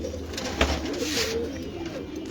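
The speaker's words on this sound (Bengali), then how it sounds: "লক্কা কবুতর বাচ্চা সহ একটা" Lakka fantail pigeons at a loft farm, a soft low cooing murmur close by, with a brief flutter or bump and steady background hum.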